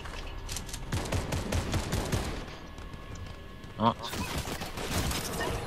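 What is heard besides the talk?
assault rifle gunfire in a video game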